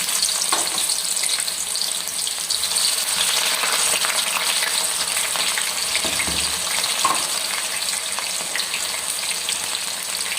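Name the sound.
onions frying in hot oil in a kadhai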